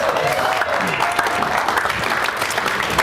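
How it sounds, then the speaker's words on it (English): An audience claps continuously, a dense wash of applause with a brief voice faintly audible at the start. "Give her a round of applause."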